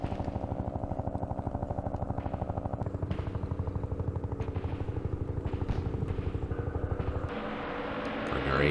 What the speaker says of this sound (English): I think we're going to pull back our helicopters a little bit out of the way.